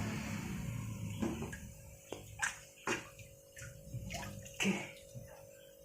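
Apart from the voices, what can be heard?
water draining out of a fish aquarium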